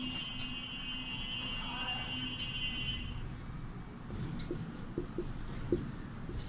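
Chalk or marker scratching across a classroom board during a Class VI Hindi lesson, a steady scraping stroke pattern with short taps near the end, heard close under a background hum and tone.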